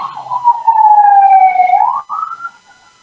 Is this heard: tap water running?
no